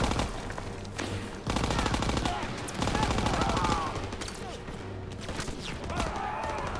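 Rapid machine gun fire rattles in long sustained bursts in Call of Duty: World War 2, loud and close on a building's stairs, broken by short pauses and mixed with other gunfire and battle noise.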